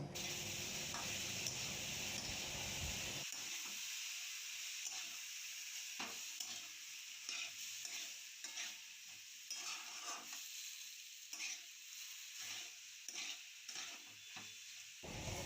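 Chopped tomato stirred into onion and spices in a pan for a chutney, a soft continuous sizzle broken by repeated scraping strokes of the spoon, quiet and close, no voices.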